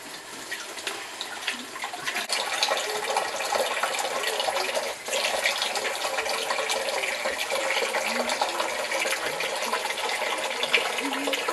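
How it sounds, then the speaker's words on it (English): A tap runs steadily while hands are washed beneath it, giving a continuous splashing water rush with small fluctuations throughout and no clear speech. "I'm going to wash my hands"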